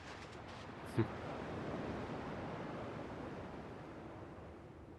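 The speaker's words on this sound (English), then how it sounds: "At least the waves sound the same." Ocean waves on the shore in the Kingdom Hearts II video game, a faint, steady wash of surf rolling continuously with no pause.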